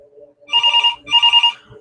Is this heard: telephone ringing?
yes